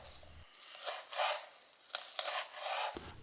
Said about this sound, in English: I forgot to chop these spring onions when I was prepping the other ingredients earlier.